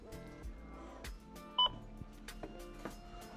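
A self-checkout barcode scanner in a German shop gives one short, clear beep while an item is scanned, set against soft store background noise and faint handling clicks.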